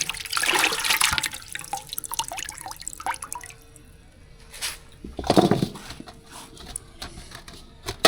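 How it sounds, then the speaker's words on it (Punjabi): Water runs and splashes in a kitchen sink while carrots are washed for gajrela, with a loud gushing burst at first, a softer trickle with drips, then another close splash. "ਧੋ ਲਿਆ ਕਰਾਂਗੇ ਗਾਜਰਾਂ"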